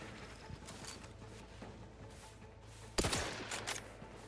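Gunfire in the video game Arc Raiders, including shotgun fire: faint scattered pops early on, then a sharp louder burst of shots at about three seconds with a brief ringing tail, heard quietly with no talk.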